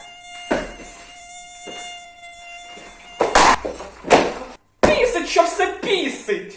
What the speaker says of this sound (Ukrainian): Бісить, коли в тебе вдома цищать комарі.